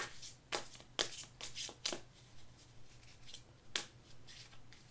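Tarot cards handled and shuffled at close range, giving a few sharp slapping riffles and soft flicks spaced irregularly over a faint steady hum, with no talking.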